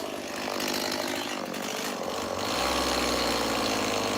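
A chainsaw runs while carving a small bald eagle from wood, loud and close with a continuous buzzing roar that drops into a steadier idle near the end.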